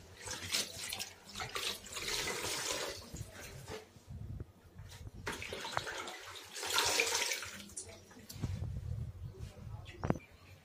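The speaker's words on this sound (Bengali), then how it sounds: "শাকগুলো ধুয়ে নিচ্ছি ভালো করে, খলায় খলায় ধুয়ে নিতেছি" Bathua greens washed by hand in water, splashing and sloshing in bursts with running-water noise, close and moderately loud.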